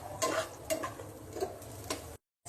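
Cumin seeds frying in a pan while being stirred, a spoon scraping and tapping against the metal in a few distinct strokes over a soft, steady sizzle, close up.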